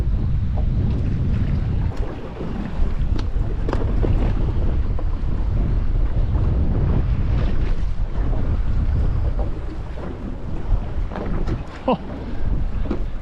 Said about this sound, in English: this wind is fairly stinking this morning